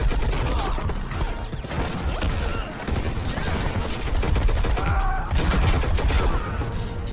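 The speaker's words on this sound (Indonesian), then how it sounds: "pasukan yang dikirim oleh Kincred datang menyerang Max" Gunfire crackles through a film attack scene in rapid bursts and volleys, mixed with crashes and mechanical clatter in a dense, loud action soundtrack.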